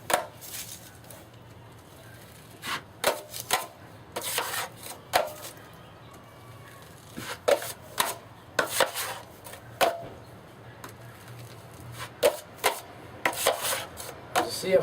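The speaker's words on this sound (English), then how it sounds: "So I'm going to use a 10-inch knife to do this here." A 10-inch drywall knife spreads 20-minute hot mud over a taped seam in a drywall patch repair, making repeated scraping strokes that come in short bursts with brief pauses between.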